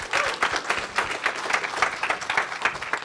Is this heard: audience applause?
yes